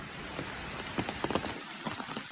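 Steady rain falls on a surface outdoors, a dense hiss with scattered louder drop patters, fairly close and with no voices.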